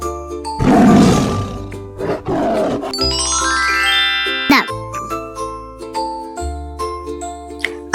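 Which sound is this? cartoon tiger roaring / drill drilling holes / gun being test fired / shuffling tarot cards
cartoon tiger roaring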